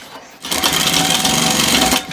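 A sewing machine runs a steady, continuous burst of stitching on a men's kurta, running loud and close for almost two seconds before stopping abruptly.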